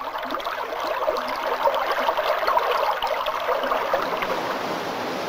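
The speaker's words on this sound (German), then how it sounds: "Das Wasser der Gebirgsbäche schießt ins Tal." Mountain stream water rushing steadily downhill, a continuous broadband wash of churning flow with no pauses, fairly close and alone without voices.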